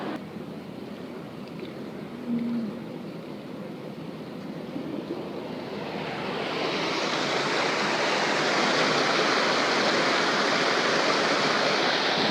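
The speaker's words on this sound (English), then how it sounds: "Very effective flush system for the free stalls" Water from a barn alley flush system for free stalls rushes out, swelling midway from a steady hiss into a loud, continuous roar that holds to the end.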